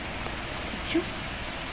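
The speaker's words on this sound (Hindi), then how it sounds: "तो हल्की हल्की हो रही है बारिश।" Light rain falls steadily in a hill village during the paddy-sowing season, a soft, even hiss that runs throughout without a break.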